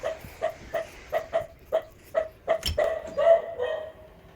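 A dog barks in a home in Vietnam, giving about ten sharp, evenly spaced barks close by that run together into a whining, drawn-out yelp near the end.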